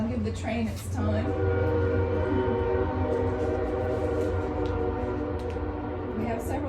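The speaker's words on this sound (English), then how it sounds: "I'll give the train its time." A train passes outside a town meeting room, a long steady low rumble with a sustained horn-like tone running throughout, fairly loud and continuous, with faint voices in the room.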